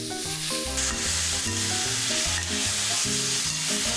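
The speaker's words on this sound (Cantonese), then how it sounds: "再加入豬腩片煎香" Pork belly slices and softened eggplant fry together in an oiled pan, making a loud continuous sizzle with scraping stirs. The sizzle stays steady under strong rhythmic tonal bands throughout, and no one speaks.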